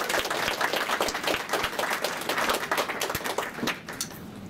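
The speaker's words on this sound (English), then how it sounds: "You can actually applaud." Audience applause at an event launching new research centers, a dense, steady patter of many hands clapping at moderate distance, continuing evenly throughout and tapering slightly toward the end.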